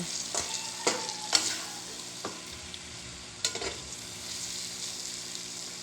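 Pork adobo with soy sauce being stirred in a greasy pan, a soft background sizzle broken by several scraping and clinking spoon strokes against the pan, close and irregular, with no talking.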